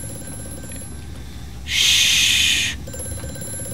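In Amnesia: A Machine for Pigs, an old telephone gives a single harsh, buzzing ring about one second long, loud and close against a steady ambient drone, with a brief whispered hush near the end.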